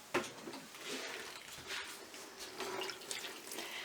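Water splashes and trickles from a bucket into a container holding toilet paper, a soft continuous pour with faint dripping, quiet and close.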